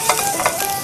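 Shredded ginger hits a lightly oiled wok and sizzles steadily, with a couple of brief louder bursts and faint stirring over a continuous hiss.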